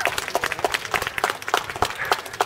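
An outdoor audience at a Flamingo Land animal show in Malton, North Yorkshire claps for Marvin the animal, a lively burst of close, uneven hand claps at fairly loud level with no talking.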